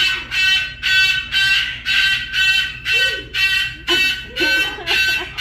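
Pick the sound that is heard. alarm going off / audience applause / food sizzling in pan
alarm going off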